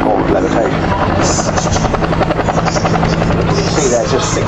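A Huey helicopter at the Blackpool Air Show gives a loud, steady rotor thump and engine whine throughout, with someone talking over it.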